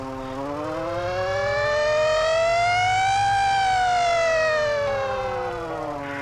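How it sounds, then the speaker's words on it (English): A Federal J fire engine siren in a firefighting video game, one loud wail climbing slowly to a peak and sliding back down over several seconds, heard close and alone. "I believe this one's called the Federal J siren."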